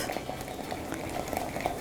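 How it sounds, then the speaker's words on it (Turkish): Soup for Erzurum aşotu is stirred nonstop in a pot as it comes to a boil, with a soft, continuous scraping and bubbling texture at moderate level and no talking. "hiç karıştırmaya ara vermeden kaynamasını bekliyoruz"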